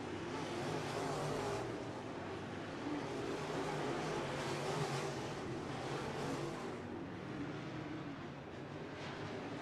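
Race cars lapping at 141 Speedway, a continuous dense roar of engines near the end of a race, steady and loud throughout with slight swells as the field passes.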